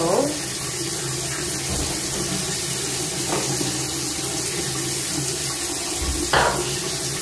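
Tap water runs steadily into a sink while dirty sponges are washed with peppermint soap, a loud continuous splashing rush with occasional knocks and sloshes from handling.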